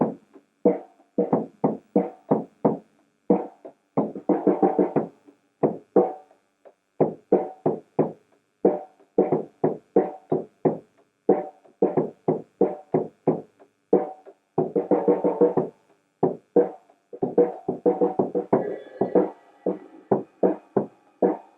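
A drum kit plays a written beat on snare, bass drum and tom-toms, with sharp, evenly spaced hits in steady rhythmic phrases and short rests, close and clear with no talking.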